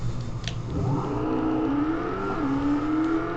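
Engine note of a car lapping a track in the Corona MotorSport racing game, a steady whirring drone that rises in pitch as it accelerates, loud and continuous with no talk.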